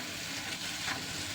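Pieces of goat head meat fry in hot oil with a steady, close sizzle that crackles softly and holds through a short moment.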